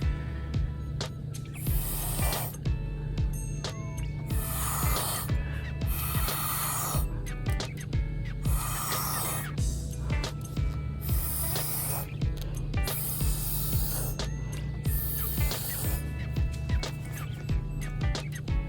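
Paint blown through a straw during pour painting makes a series of short, breathy airy puffs, around a dozen bursts in an uneven rhythm, close to the mic and with no talk.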